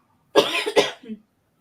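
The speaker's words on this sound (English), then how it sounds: "I was coughing." Two quick, close coughs followed by a softer throat sound, alone in otherwise quiet surroundings.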